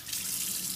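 A kitchen tap runs in a steady close rush as brown rice is rinsed under it, a brief unbroken stream of water with no voices.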